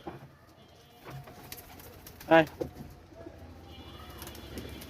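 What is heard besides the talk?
pigeons cooing in a garden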